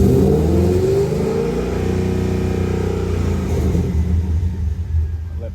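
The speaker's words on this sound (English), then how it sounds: "while I'm revving the engine." A Pontiac GTO engine revs up nearby, holding a loud, steady rising drone before easing and falling back toward idle, with no talking over it.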